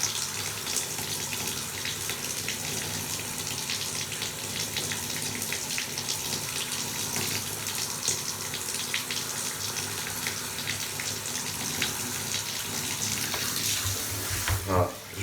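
Water running steadily through a trumpet being cleaned, a continuous close splashing rush that lasts throughout, with a brief change at the very end.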